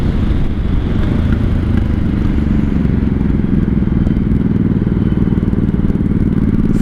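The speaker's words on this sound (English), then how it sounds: "just give her a little throttle and she will" A 1983 Honda Shadow VT750C motorcycle engine runs loud and close under throttle, a steady dense rumble with rapid firing pulses throughout and no pauses.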